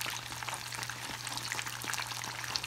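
Empanadas fry in a pan of grease that bubbles and crackles steadily up close, a continuous sizzle with a low steady hum beneath and no one talking.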